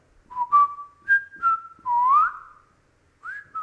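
A hollow sculpture gives a series of clear, wavering whistling tones, short notes and glides with brief gaps between them, close and fairly loud with no talk.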